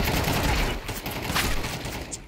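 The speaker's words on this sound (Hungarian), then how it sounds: "Belefutok a lövésébe." Rapid bursts of gunfire from Counter-Strike 2, played on the Anubis map, crackle loudly and nearly continuously as a dense fusillade with no pauses.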